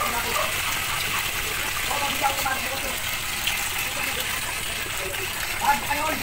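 A water pump runs steadily while water gushes from a leaking pipe, a continuous loud rushing wash with a motor hum beneath, steady throughout with no clear pauses.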